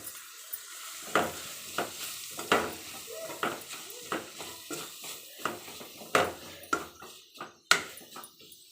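Carrots with a pinch of turmeric fry in a pan for Maggi masala, with repeated spatula scrapes and knocks against the pan in an uneven rhythm over a soft sizzle, close up.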